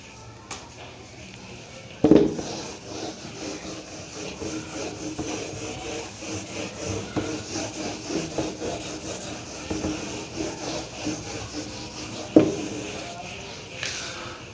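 A duster rubs out writing on a board during a maths class, giving a steady scratchy scrubbing with a couple of sharper knocks.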